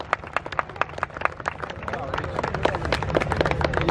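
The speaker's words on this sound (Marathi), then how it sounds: "आणि त्याचबरोबर प्रेक्षकांनी टाळ्या वाजवायला सुद्धा तयार राहा" Audience applause at a bodybuilding competition in Thane, Maharashtra: dense, rapid clapping with crowd noise, staying loud and steady throughout.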